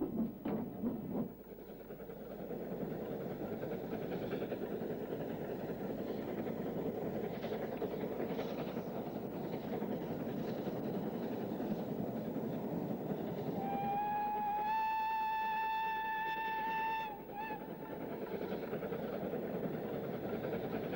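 A British Railways steam locomotive, the 1960-built Evening Star, runs past with a steady loud rumble of train noise throughout, and a long whistle sounds near the end.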